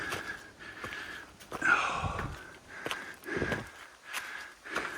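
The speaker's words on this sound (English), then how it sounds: "Excuse the heavy breathing." Heavy, labored breathing from a hiker climbing a steep, recently burnt section of the Bibbulmun Track, close and rhythmic with repeated sniffing, puffing breaths and faint footsteps.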